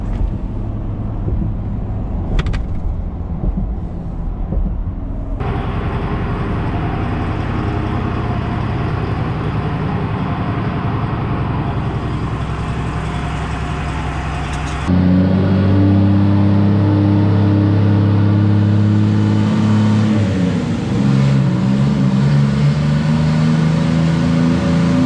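Turbo Jeep engine on a dyno, a loud sustained drone that steps up sharply in pitch and intensity partway through, then holds a heavy, tonal roar with strong harmonics and wind buffeting, no talking.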